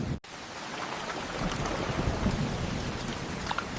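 Heavy rain pours down with thunder rumbling through a stormy scene in an animated children's story, a dense, continuous hiss of downpour with low rolling booms, no voices.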